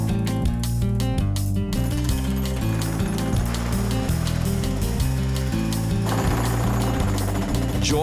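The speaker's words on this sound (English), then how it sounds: "Joined to a pair of dueling jackhammers" Two jackhammers pound a concrete step during home demolition, their rapid, loud hammering continuous and overlapping throughout.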